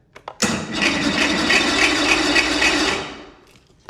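An outboard motor on a roughly 40-year-old Bass Tracker boat cranks over with a few quick catches, then fires and runs steadily at a loud, near, buzzing pitch for about three seconds before cutting off.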